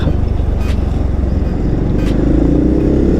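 Up close, the engine of a low, child-size car drones steadily with some clatter as it pulls out onto a main road, and the tone rises slightly toward the end.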